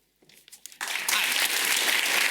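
A conference audience at a healthcare pitch event breaks into applause, starting with a few scattered claps and swelling within a second into loud, dense, sustained clapping.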